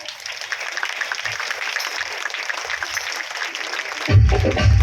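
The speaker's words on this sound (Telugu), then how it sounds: "చప్పట్లతో ఆహ్వానిస్తూ" A crowd at a Christmas celebration in Jagtial claps steadily to welcome MLA Dr. Sanjay Kumar, a dense wash of applause that ends in a sudden loud, booming low burst.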